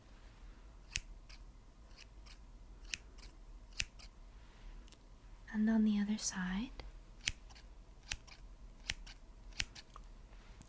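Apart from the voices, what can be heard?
scissors opening and closing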